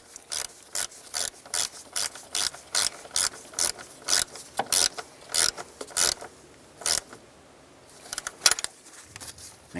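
A ratchet snugs up a nut on the throttle body bracket of a 2006–2010 Ford Explorer, giving close, rhythmic bursts of clicking strokes. The strokes come in a steady series, then a pause and a few final clicks.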